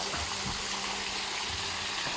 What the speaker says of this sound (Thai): ตรงนี้ก็เป็น น้ำตก